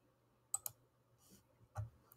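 Mouse clicks on a computer while navigating a Zoom meeting window, two sharp close clicks near the start and another pair later, separated by faint quiet room noise.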